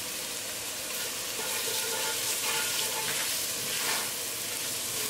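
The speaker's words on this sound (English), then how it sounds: "Cook spices along with tadka" Spices fry in hot oil for a tadka in a beef rice dish, producing a dense, steady sizzle with occasional stirring scrapes, close and fairly loud throughout.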